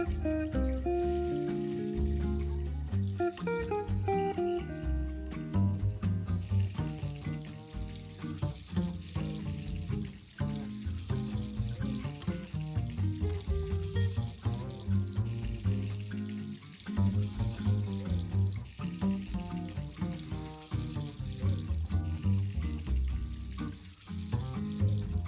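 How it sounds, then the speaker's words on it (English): Fresh sardines frying in a pan with little oil, a steady crackling sizzle running throughout under loud background music. "Slowly add fish on the pan."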